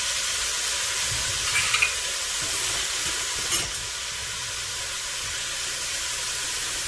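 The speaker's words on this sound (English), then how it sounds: "We're gonna let this saute up probably about 10 minutes, give or take." Holy Trinity vegetables with celery sizzle steadily in a heavy-bottomed pan, a close, continuous frying hiss with a faint stir or two and no talking.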